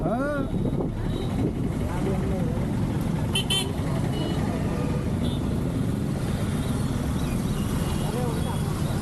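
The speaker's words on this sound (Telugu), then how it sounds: "గుంటూరు బస్సు వెళ్తుంది ఖాళీగానే" A Guntur bus drives past with short horn toots over steady road and wind rumble, nearby voices talking through it.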